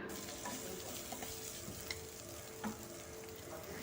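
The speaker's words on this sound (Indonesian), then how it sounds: "Kita tumis yang sudah dihaluskan tadi sampai benar-benar matang." A ground spice paste sautéing in a pan, with a low, continuous sizzle and faint crackle, occasional soft scrapes of stirring, quiet and close with no talking.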